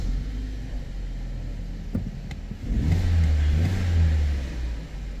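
A track car's engine, recently suffering a knock, idles and then revs up in a short rumbling burst before easing off, close and moderately loud with no talk.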